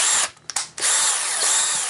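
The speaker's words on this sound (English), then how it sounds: "you want slow speed, and we'll go ahead and drill the metal one" A handheld power drill runs at slow speed boring into the metal base of a Hot Wheels toy car, a loud, steady whir that drops out briefly mid-way before resuming.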